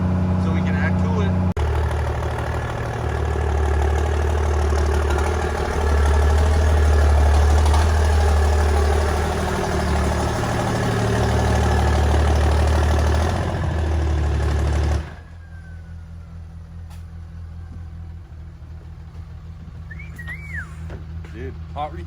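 A 2005 Deckplate 6.7L Cummins diesel without a turbo, on first fire with big injectors, idles loudly and steadily close by for about fifteen seconds, with people talking over it, then shuts off leaving quieter background noise.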